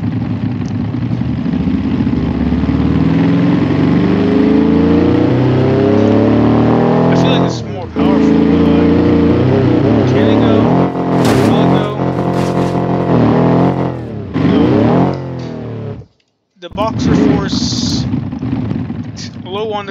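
A car engine in the BeamNG driving game roars and shifts pitch as the vehicle heads toward a small mud bog, loud and continuous with brief dropouts, while someone talks over it.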